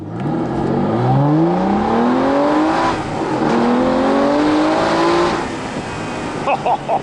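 An Aston Martin V12 Vantage S Roadster accelerates hard from low speed, its V12 rising in pitch through two gear changes before easing off. The engine is loud and close, with wind and road noise beneath.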